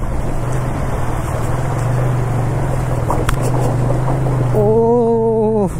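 A motorcycle crosses water on a village track near Jim Corbett National Park, its engine droning under steady splashing and rushing water before revving up in rising pitch at the end.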